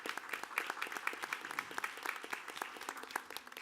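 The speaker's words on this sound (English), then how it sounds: "So big round of applause there." A board meeting audience applauds fundraising news, fairly faint, crisp individual claps from a modest group in a room, steady rhythm over a few seconds, no talking.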